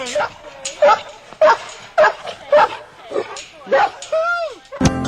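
A dog barks repeatedly at close range in a near-steady rhythm of sharp yelps, ending in a drawn-out whine and a final abrupt burst.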